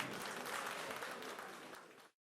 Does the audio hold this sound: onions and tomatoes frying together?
no